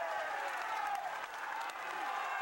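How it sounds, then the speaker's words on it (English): A massive roadside crowd roars and applauds continuously on a steep Giro d'Italia climb, a steady wash of cheering voices and clapping at a distance. "a massive crowd here as they climb up the Sorivoli"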